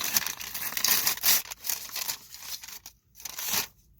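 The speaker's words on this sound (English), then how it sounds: "This paper bag is so loud." Close paper bag crinkling and rustling in irregular bursts, crisp and fairly loud, with short pauses between handlings.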